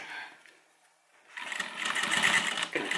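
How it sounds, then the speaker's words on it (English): A sewing machine back-stitches a homemade airliner cabin bag. After a quiet start, a close, loud whirring stitching run kicks in partway through, with a slight stutter near the end. "I'm going to back stitch."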